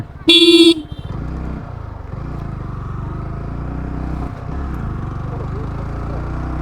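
A motorcycle engine hums steadily at close range on a ride around Nikli Naluya in Gazipur, opening with a brief loud horn blast before the even drone continues.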